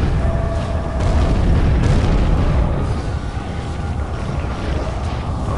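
A deep, rumbling explosion with a broad roar in American McGee's Alice booms loudly and then fades into a lingering low rumble.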